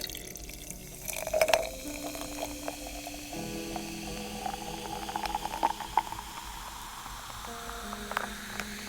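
Wine is poured into a glass holding ice cubes, a close trickling fill with rising gurgles, small clinks and crackling ice, fairly quiet and without talking.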